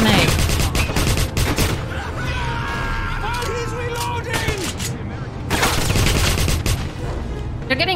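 Enemy gunfire in the video game Wolfenstein (2009), a loud, dense fusillade of rapid shots and bursts running almost nonstop, with a player talking over the battle.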